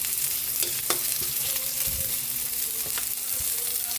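Onions sautéing in a pan for sinigang, a steady sizzle with occasional stirring scrapes, close and continuous with no talk.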